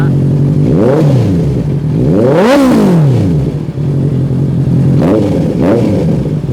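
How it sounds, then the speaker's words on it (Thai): A 2018 Honda CB650F inline-four motorcycle engine is revved hard through its exhaust several times, rising to a loud roar and dropping back to idle between blips. "มาชม เสียงท่อกันดีกว่านะครับผม"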